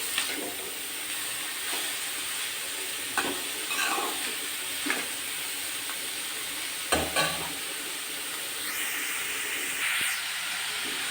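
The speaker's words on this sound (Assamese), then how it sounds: "গাজৰখিনি অলপ ভাজি ল'ব লাগিব প্ৰথমতে।" Grated carrots fry in a pan over a medium flame for carrot halwa, giving a steady, close sizzle broken by several scraping stirs of a spoon against the pan.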